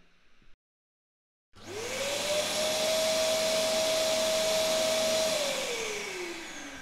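After a short silence a vacuum cleaner switches on, its motor whining up to a loud, steady roar before beginning to wind down.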